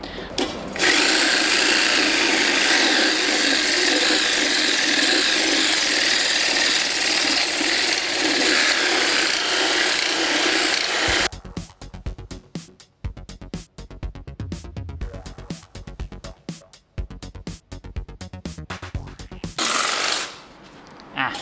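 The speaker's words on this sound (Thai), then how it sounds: "แปรงลวดนะก็เอามาใช้ขูดสีเก่าออกอย่างเงี้ยก็ได้เช่นกันนะครับ" Reciprocating saw fitted with a wire brush attachment scrubbing rust and old paint, a loud continuous rattling buzz for about eleven seconds, then choppy intermittent bursts of scraping and handling noise.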